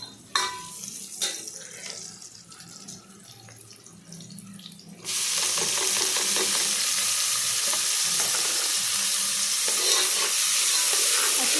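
Frying and stirring in a pan while cooking a ridge gourd sambar: after a quieter stretch with a few scrapes, a loud, steady sizzle begins and continues unbroken, close by.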